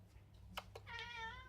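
A cat meows clearly and close up, a short drawn-out call preceded by a couple of faint clicks, in a quiet room.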